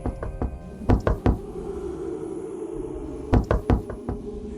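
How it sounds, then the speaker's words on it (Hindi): Loud knocking on a door as a horror story effect, with two bursts of three or four heavy, close, evenly spaced knocks separated by a quiet gap. "तभी दरवाजे पर जोर की दस्तक हुई।"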